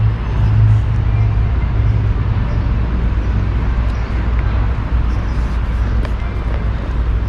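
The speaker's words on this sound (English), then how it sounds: "Old American school bus." An old American school bus converted into a party bus in Berlin gives off a steady, loud low rumble of an idling engine, with a constant deep hum throughout and no clear voices.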